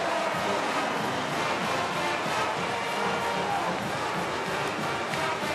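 Pitt home football crowd at a college stadium roaring steadily after a Panthers touchdown against Georgia Tech, a dense, sustained wash of cheering that fills the whole stretch without letting up.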